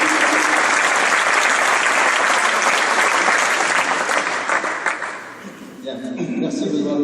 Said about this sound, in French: Je vous demande d'applaudir Gilles Malco,